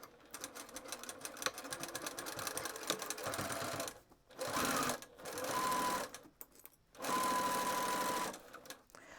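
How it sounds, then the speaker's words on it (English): A domestic sewing machine stitches a fabric beginner's pouch in short bursts, running forward and then reversing to back tack, with a steady mechanical whir that stops and starts several times at close range, no talking. "I put my needle down. I'm going to go forward and then back"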